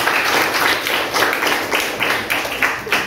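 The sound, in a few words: applause for the student council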